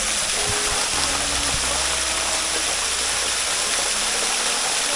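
Water rushes and splashes in a steady, loud stream, a continuous gushing roar with no pauses.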